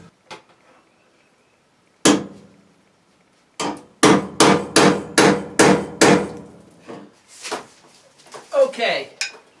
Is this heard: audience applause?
no